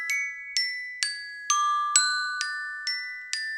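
A bright chiming phone alarm repeats eight times in an even rhythm, each tone ringing with a crisp attack and short decay, alone and clear.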